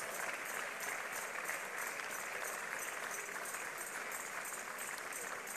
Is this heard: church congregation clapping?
yes